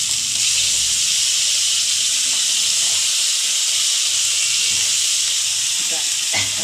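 A paste of ginger, green chilli and onion hits a hot pan and sizzles with a loud, steady hiss that fills the whole stretch, close and unbroken.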